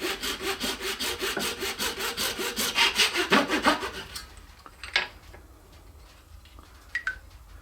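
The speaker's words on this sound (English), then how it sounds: "we're going to use a razor saw and a stop block, and we're going to cut some 1/4 inch lengths out of our clear" A razor saw draws rapidly back and forth through clear resin rod in steady, close, rasping strokes for about four seconds, then stops, leaving a few faint clicks and taps.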